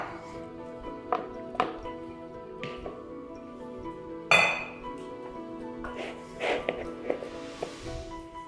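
Crab cake ingredients, including mashed potato and coconut milk, being mixed together in a bowl, with clinks and scrapes of a utensil against the dish repeating at irregular intervals, fairly close and moderately loud.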